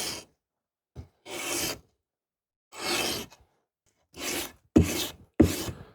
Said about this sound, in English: the first grit of sandpaper is the real heavy workload after the initial workup with the file